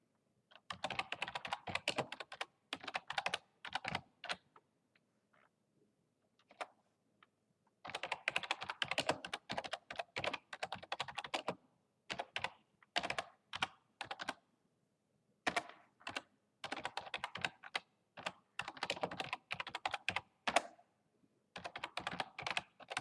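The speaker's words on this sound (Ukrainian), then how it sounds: "Я натиснула клавішу Enter." Keys clatter on a computer keyboard in quick bursts of typing separated by pauses, with single presses of the Enter key among them, close and fairly soft.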